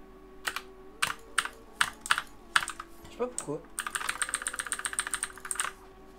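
Gaming keyboard being typed on, with several separate sharp key clacks followed by a fast rattling burst of rapid presses; a voice speaks briefly in between.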